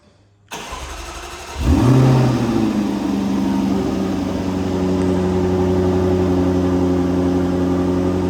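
A Jaguar F-Type R Dynamics P450 with a supercharged 5.0 V8 cranks and fires close by, flaring loudly on startup before settling into a steady, rumbling idle.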